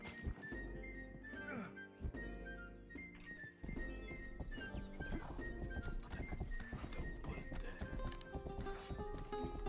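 A horse in a Wild West video game gallops with steady rhythmic hoofbeats and snorts and whinnies over a busy game soundtrack, loud and continuous throughout.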